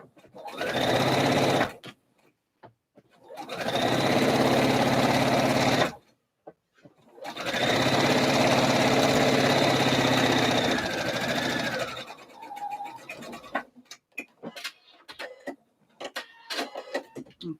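A sewing machine edge stitching a slip dress runs in three long bursts of steady whirring separated by short pauses, followed by lighter clicks and handling noises.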